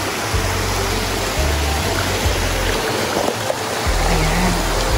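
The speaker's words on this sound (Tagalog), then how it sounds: "Nagkaroon siya ng mini falls doon sa part na yun." A lively small creek in rural Tagkawayan, Quezon, pours over a mini waterfall, giving a steady broadband rush of flowing water with a low rumble underneath, close and continuous with no talk.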